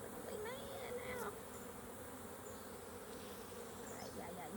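Honey bees buzz steadily around an open beehive during an inspection, a dense close hum that carries on throughout, with a brief higher whine near the start.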